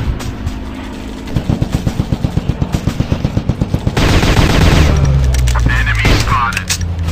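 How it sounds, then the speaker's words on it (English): Rapid bursts of machine-gun fire from the shooting game Commando Strike, a steady rhythmic string of loud shots followed by denser continuous gunfire and game effects. "I'm shooting these fools up!"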